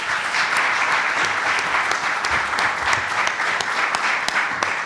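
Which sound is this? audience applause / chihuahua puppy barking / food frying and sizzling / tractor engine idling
audience applause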